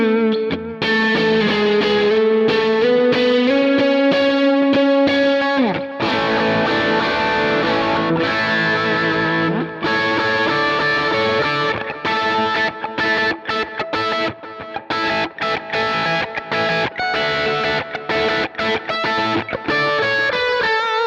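High-gain, already-saturated electric guitar tone from a Kemper profiler set up as a go-to rig, played loud and alone: sustained distorted chords and melodic lines with chorus-like shimmer, a held bend early, then busier picked phrases.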